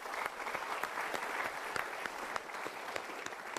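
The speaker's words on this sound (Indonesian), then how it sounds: "Kita berikan tepuk tangan dulu" An audience at a motivational speaking session breaks into sustained applause, a dense, even patter of many hands with a few sharper claps standing out near the front.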